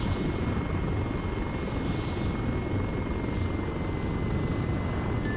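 Several Mi-8 helicopters fly in within the video game Arma 3, making a steady, dense rotor and engine drone that stays constant and fills the whole stretch without a break.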